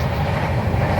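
A passenger train running out of Patna rumbles loudly and steadily from inside the carriage, with constant low rolling noise and no clear voices.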